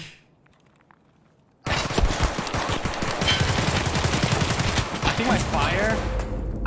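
Gunshots in Escape from Tarkov break a near silence with a sudden loud barrage of rapid automatic fire that continues densely for several seconds, with voices faintly underneath.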